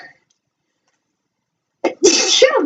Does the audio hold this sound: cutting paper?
no